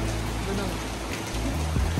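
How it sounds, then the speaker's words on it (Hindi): Heavy monsoon rain pouring down in the mountain valley around Jaigaon, a steady, dense close hiss of falling water that fills the whole moment without pause. "आप देख सकते हैं कितना तेज बारिश आ रहा है"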